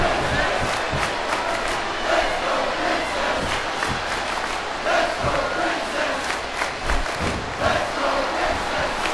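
A wrestling arena crowd roars and shouts continuously, a dense steady wall of cheering and yelling with occasional louder bursts, heard close and filling the space throughout.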